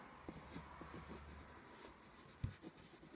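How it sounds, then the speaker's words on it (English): Pen writing quarter goals on paper, with soft rhythmic scratching strokes up close followed by a brief tap and an underlining stroke, quiet and without talk. "Now, we're going to write your quarter goals."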